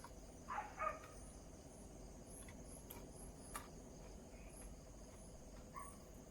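Night insects on a farm give off a steady, faint chirping drone. A few louder chirps and small clicks stand out now and then.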